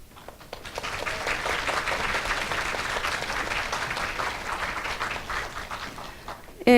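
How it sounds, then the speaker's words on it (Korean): Audience applause fills a university entrance ceremony for new and transfer students, a steady dense wash of clapping that builds quickly and holds at an even level for several seconds before tapering off. "큰 박수로 맞이해 주시기 바랍니다"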